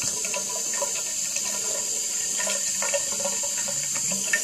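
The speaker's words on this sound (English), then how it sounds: "Okay, I got the water on." Steady stream of water running from a tap into a sink, close and continuous, with faint splashing and no talking.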